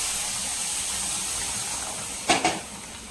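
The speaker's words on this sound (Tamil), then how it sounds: "நான் வந்து பார்த்தீங்கன்னா தண்ணி சேர்த்துக்கிறேன்" Water poured into a hot pan of pineapple kesari with cashews and raisins sets off a steady steamy hiss, followed by two brief louder splashing sizzles near the end.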